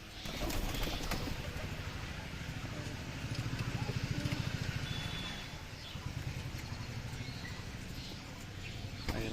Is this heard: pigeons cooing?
yes